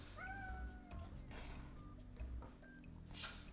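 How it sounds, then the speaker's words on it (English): A cat meows from outside a closed door, a few faint, distant, rising mews heard over a low steady hum in a quiet room. "I'm sure you can hear cat number 2 outside the door."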